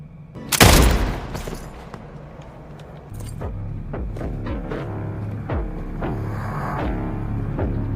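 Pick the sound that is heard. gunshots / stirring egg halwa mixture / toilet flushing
gunshots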